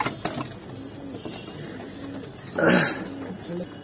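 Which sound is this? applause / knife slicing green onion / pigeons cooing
pigeons cooing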